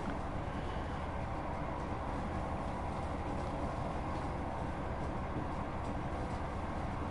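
A passing train in the Train Sim World 3 railway simulator on the Midland Main Line makes a steady low rumble and rolling noise that holds evenly throughout, with no talk over it.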